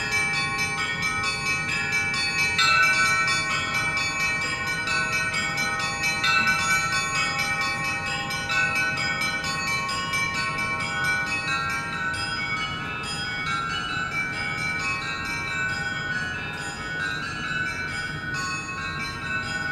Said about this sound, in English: Lots of bells in these these churchyards.